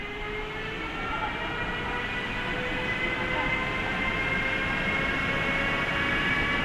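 The Pianka train pulls away from the station, a steady rumble of rolling wheels with faint rising tonal whines, heard under light talk.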